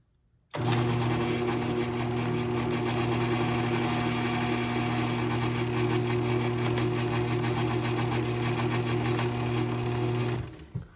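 An Overhead Door 450A garage door opener whirs steadily at close range for about ten seconds with an even mechanical hum and buzz, then abruptly stops.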